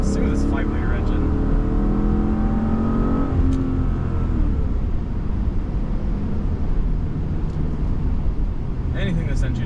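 A 2004 Mercedes-Benz CLK500 with its 5-liter engine runs and revs, a steady motor drone rising and falling in pitch, with someone talking over it for part of the time.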